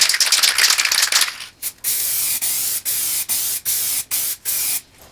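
Glue coat sprayed onto the wires of a DIY planar speaker panel: a long continuous hiss at first, then a run of about seven short, close bursts separated by brief gaps, loud and alone without talk.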